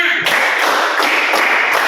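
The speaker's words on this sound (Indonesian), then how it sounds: "Tepuk 1, tepuk 2, tepuk 3, tepuk 4, tepuk 5" Students in a classroom clap together in a loud, tight rhythmic pattern, with sharp group claps landing in steady pulses and the sound filling the room throughout.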